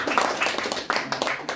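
Applause from an audience at a lecture hall talk on space law, a short burst of scattered hand claps with rhythmic peaks, fairly close and moderately loud, with some voices faintly beneath.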